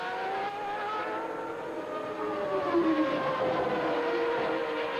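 Williams Formula 1 cars lapping Interlagos during 1990 Brazilian Grand Prix qualifying: high, whining engine notes sweep and shift in pitch as cars pass at a distance, with a constant crowd-like wash behind.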